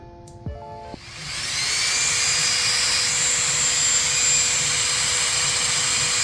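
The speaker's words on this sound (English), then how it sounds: "We're going to kick this fan on at 16 volts." A Castle Creations HyperFlow fan switched on at 16 volts spins up after a couple of faint clicks into a loud, steady high-pitched whine and rushing air that holds constant for several seconds.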